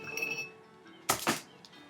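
Two quick glassy clinks ring out close by as broken glass pieces are shaken loose during lantern making, the second following the first by a fraction of a second against a quiet background.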